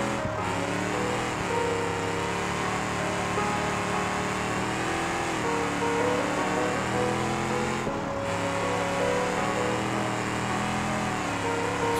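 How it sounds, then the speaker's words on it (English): Gavril Barstow car in BeamNG.drive stuck in second gear, its engine droning steadily with harmonic whine while the wheels spin, loud and continuous throughout with no talk. "It's wheel spinning way too much"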